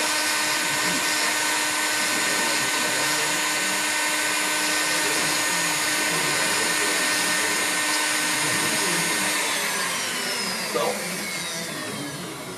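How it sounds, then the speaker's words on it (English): A rotary burr carves a path into a surface with a continuous high-pitched whirring whine, steady and close, easing slightly near the end. "I develop a path for the burr to follow."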